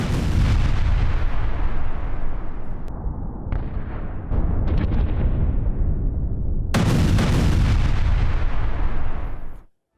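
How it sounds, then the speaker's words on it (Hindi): An IDF airstrike drops bombs on a building, producing a sustained roar of heavy blasts and rumbling booms, loud and distant-sounding, that cuts off abruptly at the end with no voices. "ये देखिए कैसे बम बरसा दिए जाते उस इमारत के ऊपर"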